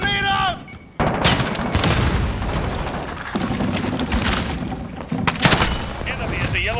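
Call of Duty Modern Warfare multiplayer on Xbox One: a loud grenade blast and rapid bursts of gunfire fill the mix, with brief voice callouts between heavy, close impacts.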